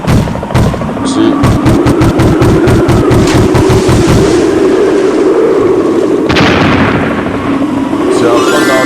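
Gunfire and explosions in a VR carrier jet fighter game, with a rapid burst of loud repeated shots followed by a heavy booming blast and rumbling engine noise, all close and loud.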